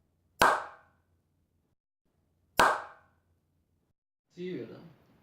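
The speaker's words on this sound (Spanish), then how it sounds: "Doy un aplauso, prende. Doy otro aplauso, se apaga." Two sharp, loud single hand claps a couple of seconds apart toggle a sound-activated light switch, each ringing briefly in a quiet room, followed by a short murmur of voice.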